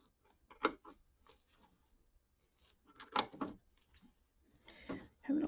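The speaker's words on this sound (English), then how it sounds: "All right, we're going to trim along here. Get these trimmed." Scissors trimming embroidery thread on a quilt block, heard as a few close, quiet snips and soft rustles spaced through the moment, with faint handling sounds between cuts.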